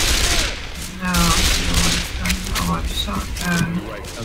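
Gunfire in the co-op zombie shooter Left 4 Dead 2, with bursts of shots and booms mixed among game effects, running under near-constant players' talk and reactions.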